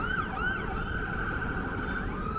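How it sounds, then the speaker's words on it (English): A fire engine siren wails in a town centre street, a loud, close, rising and falling tone that continues throughout over low traffic rumble. "Oh, fire engine, we've got sirens."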